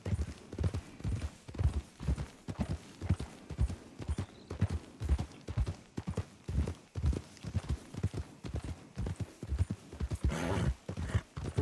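A horse ridden along a trail in Red Dead Redemption (RedM) clip-clops steadily, loud and close, with a regular galloping hoof rhythm that continues throughout, while a snort or whinny briefly rises near the end.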